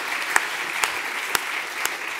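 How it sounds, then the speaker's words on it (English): Audience at a Southbank Centre panel event applauding guests in a hall, a steady wash of clapping with a few louder individual claps standing out. "Give them a round of applause"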